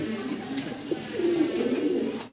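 Pigeons coo in a low, throaty, rolling rumble that swells and holds for about two seconds, close by and steady over a faint background hum.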